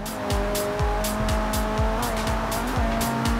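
In Forza Horizon 3, a car engine drones steadily and loudly with rhythmic gear-shift dips while the tires squeal through skids, with no talk over it.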